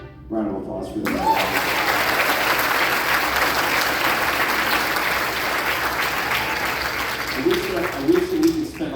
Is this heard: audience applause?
yes